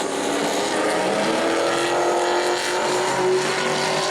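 A sportsman race car howls past on a qualifying lap at New Smyrna Speedway, a loud sustained engine drone with a slight pitch shift as it passes, no voices over it.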